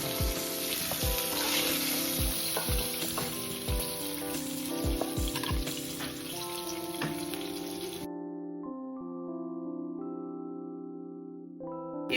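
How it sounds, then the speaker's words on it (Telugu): Chicken leg pieces frying in hot oil, a steady dense sizzle running throughout, close and moderately loud, with a few soft clinks early on and a calmer bubbling toward the end. "మిగతావి కూడా ఇదే విధంగా ఎర్రగా ఫ్రై చేసేసుకోవాలి"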